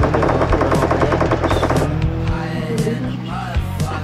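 Shotgun blasts in a fast-paced online shooter video game, heavy rapid booming shots layered over constant game noise and rumbling engine-like hum, loud and dense throughout.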